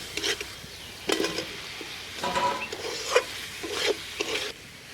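Fried potatoes are stirred into sizzling spice masala in a pan for Kashmiri aloo dum, with repeated scraping strokes over a soft, steady frying crackle.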